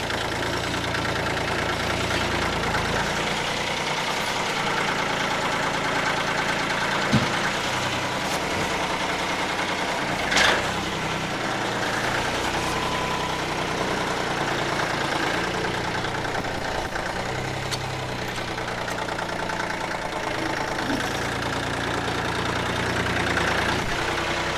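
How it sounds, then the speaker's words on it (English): An engine runs steadily nearby outdoors on crusted wet snow, a constant low rumble with a few brief knocks and bumps, heard through a helmet-mounted microphone. "I don't know if the sound of that engine is coming through or not"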